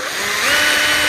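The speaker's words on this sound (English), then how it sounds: "with a 3/32 bit or so, you drill right through it" An electric drill with a 3/32 bit bores a pilot hole through aluminum, making a loud, steady high whine that climbs slightly in pitch as it cuts, close up and heard alone.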